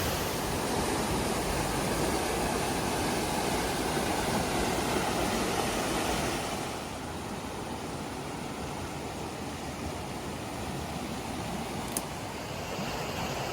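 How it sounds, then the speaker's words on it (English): Cedar Rock Falls waterfall on a forest hiking trail, a loud, continuous broadband rush of falling water that drops slightly in level partway through and stays steady, with no voices. "Cedar Rock Falls, this is beautiful."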